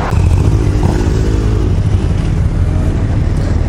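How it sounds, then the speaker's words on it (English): Motorbikes setting off for a ride through the countryside, a loud close engine rumble with revving and clatter that stays strong across the few seconds. "we're going to go and blart our bikes around the countryside for a few minutes"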